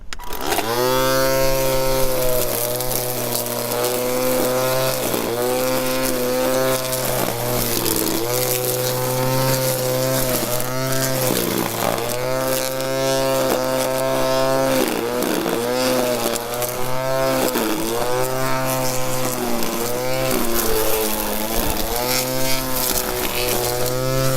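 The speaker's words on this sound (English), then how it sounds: "So let's give this a little bit of a run here on a spot that we've got a little bit of grass to trim here around the camper jack." A Teccpo 20 volt, 2Ah lithium-ion cordless string trimmer cuts grass around a camper jack, its motor a steady, close whine that dips and rises as the line meets the grass. No one speaks.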